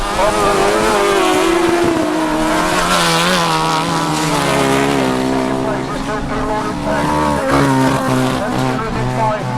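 Grasstrack motorcycles race around a track, their engines a loud, continuous rising and falling whine of several bikes together, with a commentator talking over the noise.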